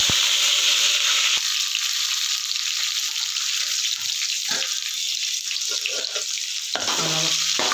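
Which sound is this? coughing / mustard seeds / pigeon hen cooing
mustard seeds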